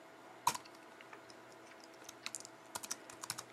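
Quiet, close typing of code on a computer keyboard: a sharp key tap followed by scattered, then quicker clusters of soft clicks, with no talking.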